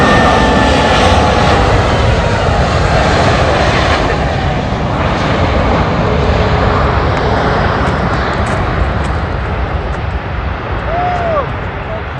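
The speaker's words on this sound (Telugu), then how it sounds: "భోగాపురం అంతర్జాతీయ విమానాశ్రయంలో ఫస్ట్ విమానం ల్యాండింగ్ విజయవంతం" A plane landing at Bhogapuram international airport, a loud continuous engine roar that slowly eases over twelve seconds, nearby and alone without talk.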